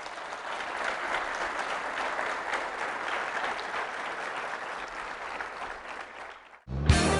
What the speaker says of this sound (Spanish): También, dale palmas al Señor.